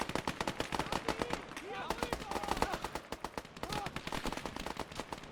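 Dense, rapid gunfire from the WWII-era Eastern Front game Gates of Hell: Ostfront, with squad rifles and machine guns firing at a Jeep, steady overlapping bursts throughout, loud and continuous, with voices mixed in.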